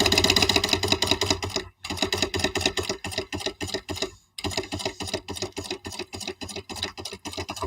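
Sewing machine stitching a fold-over project, running in rapid even bursts with a brief pause partway through before the stitching resumes, loud and close with no talking.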